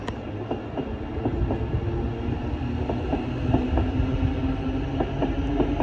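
A Class 717 passenger train runs on a North London railway line, producing a steady loud rumble with repeated clicking wheel beats over the rails throughout.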